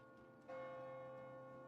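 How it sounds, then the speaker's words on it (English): Church bells ring in the video game Diablo IV, a single clear tolling strike with a long sustained ringing tone that holds quietly at a distance. "Follow the church bells."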